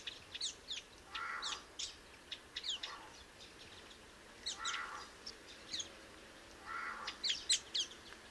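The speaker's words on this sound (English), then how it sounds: "We listen many birds around us also" A flock of forest birds foraging together in the Horton Plains woodland of Sri Lanka gives repeated sharp, high chirps and squeaky calls, some in quick clusters, against quiet background hiss.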